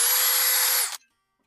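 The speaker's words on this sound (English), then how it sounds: "what is wrong with this drill?" A power drill malfunctioning during morning garden chores whirs loudly and steadily at close range for about a second, then cuts off abruptly into silence.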